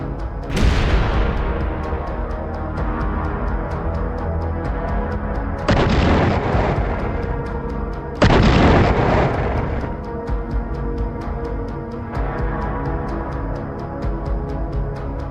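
Tank cannon fire and explosions in a battle, with heavy booms at the start and two more big blasts mid-clip, over a continuous rumbling din of combat.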